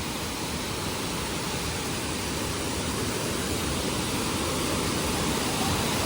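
River water flowing at Saarburg, Germany, in the early morning, a loud, steady, broadband rush with no pauses, close and continuous throughout, with no voices.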